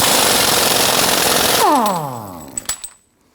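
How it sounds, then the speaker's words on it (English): An impact power tool with a 34mm socket loosens the front axle nut on a 2017-2020 Hyundai Elantra, a loud continuous rattling hammer that spins down with a falling whine, followed by a few metallic clinks. "you're going to use the 34mm socket and loosen that axle nut"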